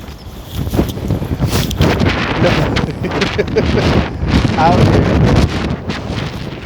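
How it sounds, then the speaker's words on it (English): Strong wind gusts across a winter beach and buffets the microphone in a constant heavy roar, while a person speaks briefly. "As you can tell, it's very windy."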